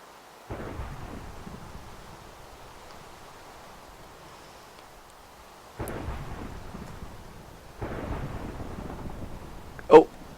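Thunderstorm in a survival video game, with repeated deep rolling thunder rumbles and a sharp crack near the end, over a faint rain-like hiss.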